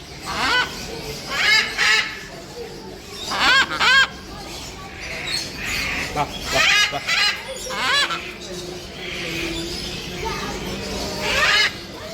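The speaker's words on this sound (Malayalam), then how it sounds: "തത്തക്കുഞ്ഞുകളല്ലേ അതെല്ലാം തത്തക്കുഞ്ഞ് തിരിഞ്ഞതല്ലേ" Parrot chicks call inside a pet shop in Kuwait with repeated harsh, nasal squawks in short bursts, close and fairly loud, while people talk nearby between and under the calls.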